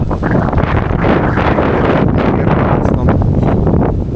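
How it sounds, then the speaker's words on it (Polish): Strong, steady wind buffets the microphone with a loud, continuous roar and gusty rumble throughout, with no voices. "Bo ten wiatr wiejący nie pomaga."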